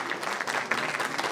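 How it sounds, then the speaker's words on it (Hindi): Audience applause in an indoor hall at a drama performance, a dense steady patter of many hands clapping throughout, moderately loud and with no voices over it. "जोरदार तालियां हो जाएं।"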